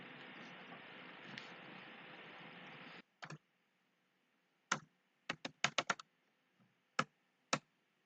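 Typing on a computer keyboard during a programming lesson: a hiss of room noise gives way to scattered, sharp key clicks, some single and some in a quick cluster of five or six taps, close and distinct against silence, with no talking.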